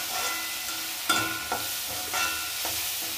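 Finely chopped tomatoes frying in a pan with already browned onions for a potato and mogri vegetable dish, giving a steady soft sizzle broken by a few metal clinks and scrapes of stirring, with no voices.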